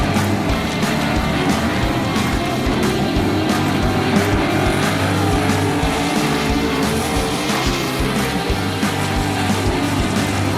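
Sprint cars race around a dirt track in an Elite Sprint Car Series heat, their engines a loud, continuous, snarling roar from several cars at once, rising and falling slightly as they circle.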